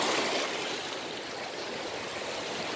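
Steady rush of river water spilling over stones at a pool where cider was set to cool, a continuous close, full splashing wash with no voices.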